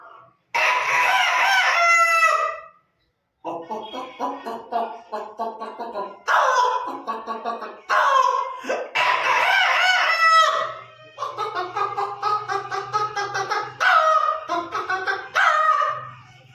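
A person imitates a rooster with loud, close crowing calls that repeat in several long, drawn-out bursts separated by short pauses, with faint clucking underneath.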